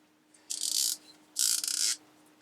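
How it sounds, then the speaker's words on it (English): A CK Tools T4288 VDE torque screwdriver clicks in two short, close ratcheting bursts, each a rapid run of crisp clicks, in a quiet room. "just click away to your heart's content"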